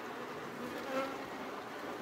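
A swarm of Japanese honeybees hums in a steady, moderate buzz that holds for about two seconds, with no one speaking over it.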